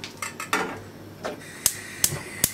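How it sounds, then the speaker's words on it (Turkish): A frying pan set down on a kitchen stove: a few sharp metallic clanks and knocks, close and distinct, after some softer handling noises, with no voices. "Tavayı ocağıma alıyorum."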